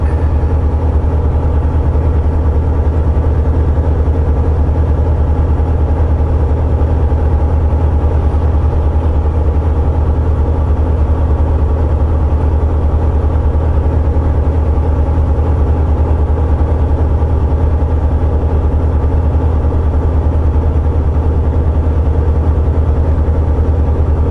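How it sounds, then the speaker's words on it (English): Automatic semi truck engine running at 1600 RPM in 7th gear at about 28 mph, a loud, constant low-pitched drone with steady vibration and no breaks throughout. "Downshifted. It is 1600 RPM, 7th gear, 28 miles per hour. All automatic."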